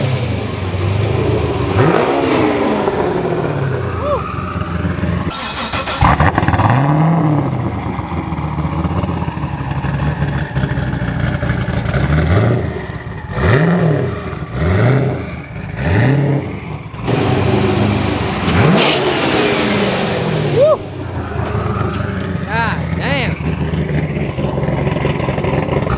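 A straight-piped Corvette on a dyno revs hard and repeatedly. Its loud, raw engine climbs and drops in sweeping bursts over about half a minute, with short lulls between the pulls.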